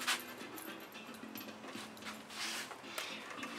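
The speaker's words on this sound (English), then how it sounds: "the dogs are in the yard now" Dogs whimpering and panting out in a yard, soft intermittent high whines over a low background hum, faint and somewhat distant.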